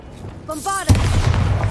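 A Bombarda spell explosion in the Hogwarts Legacy video game: a short shouted voice, then a sudden loud blast with a rumbling low boom that trails on under a steady game soundscape.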